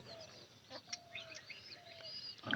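Faint cooing calls of a pigeon from a breeding pair, a few soft drawn-out notes among quiet background chirps and clucks from other birds, without talk.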